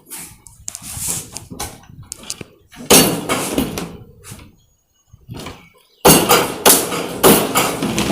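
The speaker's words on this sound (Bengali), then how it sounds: "এটা স্পট ওয়েলিং মেশিন আছে" Spot welding machine joining a GI Tata wire cage in a small workshop, giving repeated loud thumping clacks in irregular bursts with short pauses between, close and dominant.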